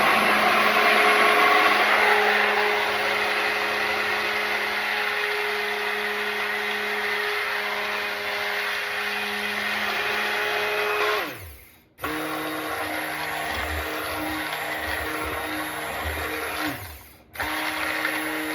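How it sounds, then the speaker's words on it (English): Blender whirring as it mixes soap additives with thick coconut cream for turmeric and honey soap, a steady high motor whine that briefly dips and restarts twice. "So the first thing I'm gonna do is just blend up my additives in here."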